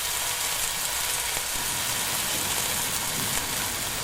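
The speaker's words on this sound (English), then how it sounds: "Yes, it's sizzling nicely." Salmon fillet sizzling in a hot Ninja Zerostick frying pan, a loud, dense, continuous crackling hiss held close and steady throughout with no voices.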